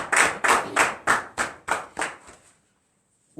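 A church congregation at morning prayer claps in acclamation, about eight loud, evenly spaced unison claps that slow slightly and then stop, leaving near silence.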